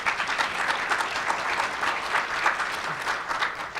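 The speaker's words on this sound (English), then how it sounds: "Give them a round of applause." Audience at a 2014 panel session on tribal cultural services gives steady, dense applause for the panel, a full sustained round of many hands clapping throughout with no voices over it.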